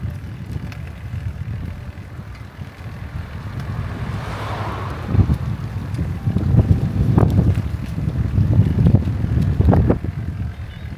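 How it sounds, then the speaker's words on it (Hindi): Cold wind at Kawaguchiko near Mount Fuji buffets the microphone in a continuous low rumble that swells and gusts louder in the second half. "बहुत ठंडी ठंडी हवा चल रही है"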